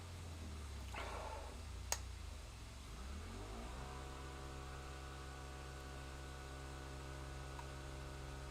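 A car doing a burnout in the video game Cyberpunk 2077 on Xbox Series S, its engine revving up and then settling into a steady, droning hum with tonal layers, heard without talk.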